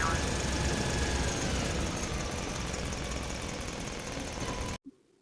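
A motorcycle engine idles and rumbles steadily in a Bangla fox-and-tiger cartoon, a close continuous drone that cuts off abruptly near the end.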